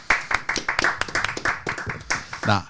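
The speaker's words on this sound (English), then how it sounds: "A round of applause for Bordraw, lads." A few hands clapping in a quick, uneven burst of separate claps, close and fairly loud, mixed with someone talking over them among a small group.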